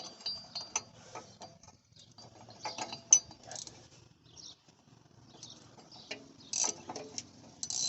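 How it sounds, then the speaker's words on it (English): A 14mm ratcheting wrench tightens suspension lift bolts on a 2004-2006 first-generation Scion xB, giving scattered faint clicks and metallic ticks in short bursts with quiet pauses between. "doesn't have to be a ratcheting wrench, just the only 14mm wrench I have"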